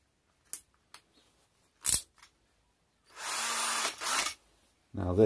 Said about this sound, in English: Drill bit that we used before so successfully onto the pillar drill.